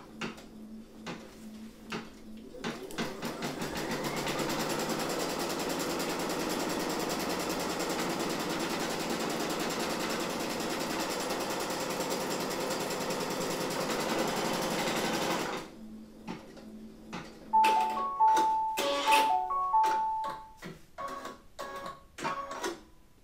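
A Brother Innovis V5LE embroidery machine stitches an in-the-hoop coin pouch on white stabilizer, giving a loud, steady, close mechanical hum of rapid stitching for about twelve seconds. The machine then stops and a few short electronic beeps follow.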